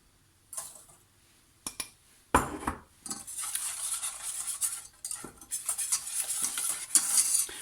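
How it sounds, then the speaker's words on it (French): Lemon cupcake batter whisked with sugar in a bowl: bursts of brisk scraping and clinking of a utensil against the bowl, close and fairly loud, with short pauses and no talking. "On mélange comme il faut rapidement. Et aussitôt on met le sucre."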